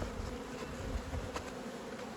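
Dense, steady buzzing of many honey bees around a hive, continuous and close, with no talking.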